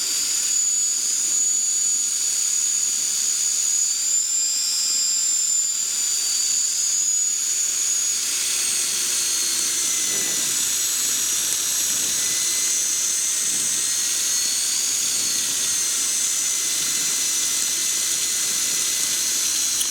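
Electric aircraft motor held at cruise power of about 90 amps, a steady loud whine with bright high-pitched tones and airy rushing hiss that runs continuously without pause.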